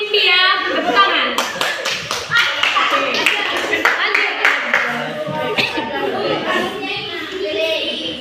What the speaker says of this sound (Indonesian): Mungkin di mimpi ya, tepuk tangan.